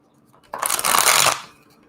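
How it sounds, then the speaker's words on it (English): Tarot cards being shuffled, a dense riffling burst of stiff card edges that swells and then fades away, close and fairly loud. "Some of these cards, y'all, are not that easy to shuffle."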